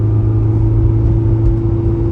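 A Honda engine revving hard as VTEC engages, a loud, close, steady mechanical roar with a strong low drone, heard alone without talk.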